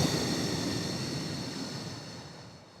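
A slow, steady exhale pushed out through pursed lips during a guided deep-breathing exercise, a soft continuous breathy hiss that gradually fades over about three seconds, heard alone and close.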